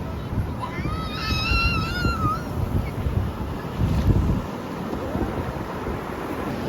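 Ocean waves breaking on the beach at Neelankarai, Chennai, a broad steady wash of surf with wind buffeting the microphone, a brief whistle-like tone early on, and a louder surge near the middle.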